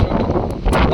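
Strong wind buffets the microphone in a loud, continuous rumbling roar, outdoors in Rajapalayam, Tamil Nadu.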